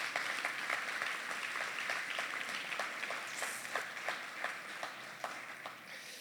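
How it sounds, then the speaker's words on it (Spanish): A church congregation claps in praise, with a steady rhythmic beat of many hands that sounds moderately distant, under a diffuse roomy wash and a few faint voices. "le puedes dar un aplauso al Señor."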